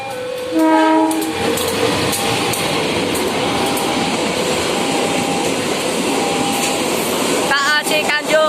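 The Sri Tanjung passenger train rolls loudly past level crossing 13 at Boyolangu, Giri, Banyuwangi, its horn sounding at the start before a steady roar and wheel clatter that lasts until a bell rings near the end, with voices heard nearby.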